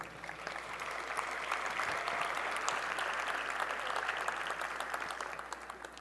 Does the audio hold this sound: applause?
yes